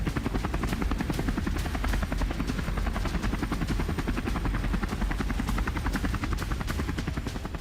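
A patrol helicopter flying over the Black Sea, its rotor chopping in a fast, steady rhythmic pulse with a loud, constant engine drone throughout, close and unbroken, with no voices.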